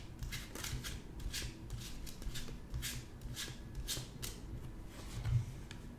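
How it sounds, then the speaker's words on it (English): Tarot cards drawn from a deck one after another produce a run of soft papery slides and flicks, close and quiet, repeating across the span with no talk. "So now, let me draw one card for each."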